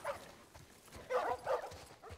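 Dogs barking in The Last of Us Part I on PC, a few sharp yips and barks in separate bursts at mid distance, with no voices over them.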